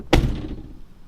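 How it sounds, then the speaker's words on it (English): A high-mileage Tesla car door swings shut with one solid thud, followed by a brief rattling buzz from the window glass inside the door that fades quickly. "you can hear the window glass rattle inside the door, and it sounds like it's gonna break"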